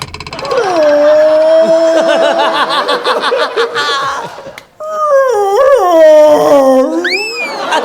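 A person imitates a dog, drawing out loud whimpering howls in long wavering tones, breaking off briefly and then rising into more whines and yelps, performed alone on a comedy stage set in a hotel.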